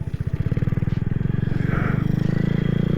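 A Honda Grom motorcycle engine holds a steady, loud, throbbing idle and rises slightly in revs, close by and continuous for the whole stretch.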